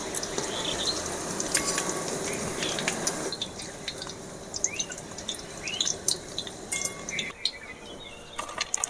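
Jackfruit pakoras fry in hot oil, giving a steady close crackling sizzle with scattered pops and occasional utensil clinks and drips; nobody speaks.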